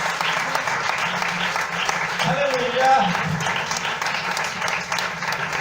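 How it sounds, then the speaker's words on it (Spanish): A Spanish-speaking church congregation claps in sustained, loud applause, with voices calling out and praising over the dense clapping. "Den ese aplauso a Jesús de Nazaret."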